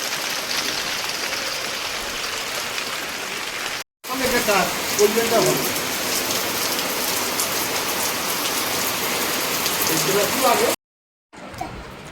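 Heavy rain pours down hard in a dense, loud, continuous roar on the surfaces all around, broken by two brief drop-outs to near silence, with no talking.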